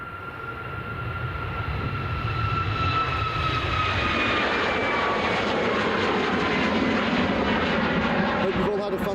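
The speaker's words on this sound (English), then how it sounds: "this Boeing 737 MAX operated by Ryanair, departing us along runway 28 here at Dublin International." A Ryanair Boeing 737 MAX jet departs along runway 28 at Dublin Airport, a loud, steady engine roar with a whining tone that swells and holds throughout while someone talks over it.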